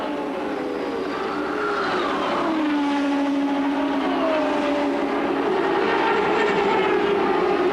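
IndyCar race cars screaming around an oval at the 1993 race, engine notes rising and falling as they pass; loud and continuous, with Doppler sweeps as the cars go by.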